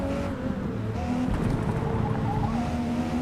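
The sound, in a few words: race cars racing in Forza Motorsport video game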